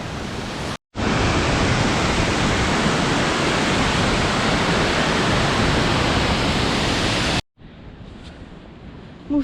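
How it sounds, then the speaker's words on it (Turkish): A waterfall pours in a steady, loud, broadband roar near Uzundere in Tortum, Erzurum, filling most of the time without pause, then cutting briefly to near-silence before resuming more quietly at the end. "gördüğüm en iyi şelale"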